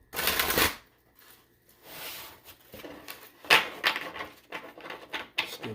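Repeated dry riffling and soft slapping of a tarot deck being shuffled, in several bursts with short pauses between them, close and clear.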